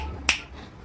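A single sharp finger snap, crisp and close, cuts through a low background hum.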